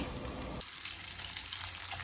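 Steady sizzling and crackle of bacon rendering in a hot frying pan, continuous and fairly close, with no voices.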